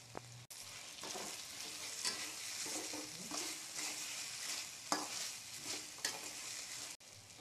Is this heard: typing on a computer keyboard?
no